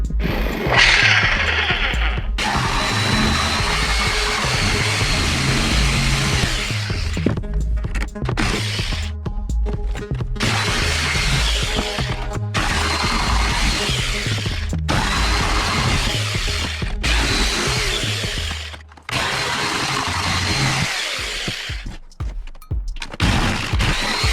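A jigsaw cuts through a plastic crate loudly in long buzzing bursts, with brief pauses between passes and a harsh rattling edge.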